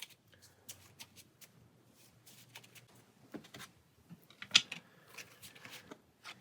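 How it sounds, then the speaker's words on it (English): Playing cards for the Pathfinder Adventure Card Game being shuffled into a deck by hand, a run of soft papery riffles and flicks, close and quiet, with no talking. "We'll end our turn by shuffling these into our deck and then drawing 3."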